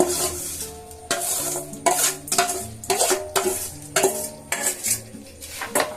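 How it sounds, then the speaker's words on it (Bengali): Mihidana boondi being mixed into sugar syrup in a metal pot, a run of close scraping and clinking strokes from a spoon against the vessel, repeated in an uneven rhythm with no talk. "এগুলোকে এখন আমি এগুলোকে পুরো এর সাথে মাখিয়ে নেব"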